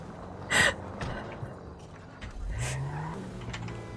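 A car drives in the video game GTA 5, its engine humming low and then revving up and holding a steady, moderately loud drone, with a brief breathy whoosh near the start.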